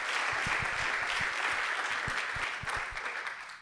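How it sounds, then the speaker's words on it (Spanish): A church congregation claps in praise during a Spanish-language sermon, a burst of brisk, scattered handclaps that carry on steadily and then taper off over a few seconds. "Fuerte aplauso al Señor."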